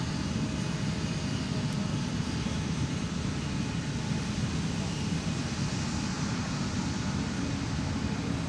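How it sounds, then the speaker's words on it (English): A Delta Airbus A350-900 jetliner at MSP airport gives off a steady, low jet-engine roar close by, constant and unbroken, with wind noise on the microphone and some talk. "Up close and personal with Delta's largest and best looking jetliner, the A350-900, aka Big Sexy."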